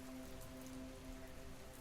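Rain falls on a surface on a rainy night, a soft, steady, dense patter with no voices, faint and even throughout.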